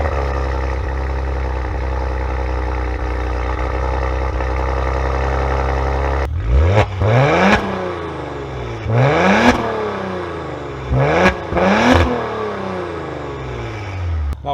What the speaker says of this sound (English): you're closer to that twin turbo V6. Speaking of, let's just crank that up.